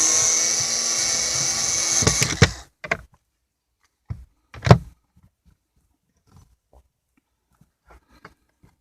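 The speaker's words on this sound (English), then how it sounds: "I have finished unscrewing it, so I can see that this is now loose" A power driver whirs steadily while unscrewing screws from a van's built-in cabinet, then stops. It is followed by a few sharp clicks and short bursts of clattering and handling noise, then near quiet.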